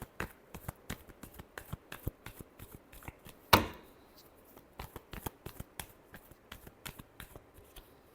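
Tarot cards shuffled by hand, a rapid run of crisp riffling snaps and taps, close and fairly quiet, with one sharper louder slap partway through.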